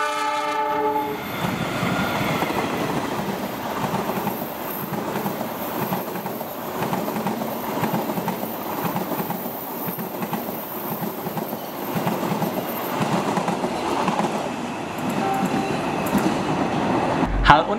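An Argo Cirebon passenger train in Indonesia rumbles past close by with continuous rolling wheel noise and rhythmic clatter over the rails, steady and loud throughout.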